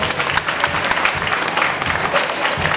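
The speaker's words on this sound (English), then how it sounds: "Let's give our girls a great round of applause." Audience applause at a Go Red for Women fashion show in a mall department store, a steady dense wash of clapping from a crowd that holds level throughout without talk.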